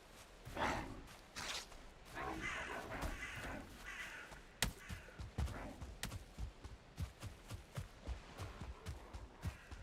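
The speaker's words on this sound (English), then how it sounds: "Sounds like 2 sets of crows," Crows in the video game Valheim caw repeatedly in harsh, overlapping calls that sound like more than one group, loud and close, with some scattered thumps and footsteps.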